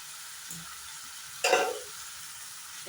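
Sliced onion and thin strips of capsicum hit hot ghee or oil for fried rice, with a sudden burst of sizzling and stirring midway that settles into a quieter fry.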